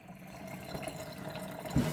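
Hot water pours steadily from a kitchen tap, a continuous hiss and splash that swells a little louder near the end.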